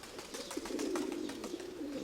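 Pigeons in a loft give soft, rolling coos, a low repeated burbling call close by and fairly quiet, with faint rustling behind it and no talk.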